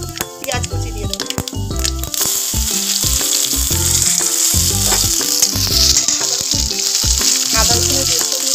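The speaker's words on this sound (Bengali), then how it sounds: "পেঁয়াজ আদা রসুনটাও ভাজা ভাজা হয়ে গেছে" Chopped onion with black mustard seeds and green chilli frying in hot oil for suji dosa, a loud, steady sizzle with crackling pops and occasional stirring scrapes throughout.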